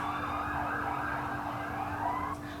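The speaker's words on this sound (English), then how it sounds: "Sirens." Emergency vehicle sirens wailing along a London street, a loud continuous rising and falling tone over road rumble that cuts off near the end as the vehicles pass.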